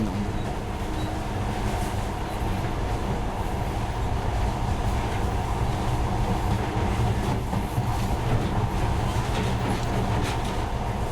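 A steady, continuous rumble of a monorail train running along its track in the video game Metro Last Light Redux, with a low mechanical drone and faint rattling that never lets up.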